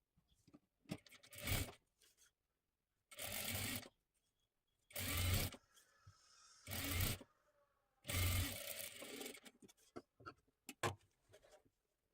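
A sewing machine stitches lace onto a puff sleeve in five short bursts of fast whirring separated by quiet pauses, close and clear with no talking.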